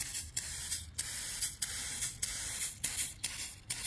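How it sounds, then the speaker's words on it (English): Aerosol ceramic tire coating sprayed from a can in repeated hissing bursts, each a second or less with short gaps, close and fairly steady, with no talking. "I do not like the way this stuff sprays."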